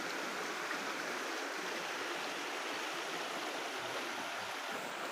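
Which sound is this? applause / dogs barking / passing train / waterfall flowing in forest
waterfall flowing in forest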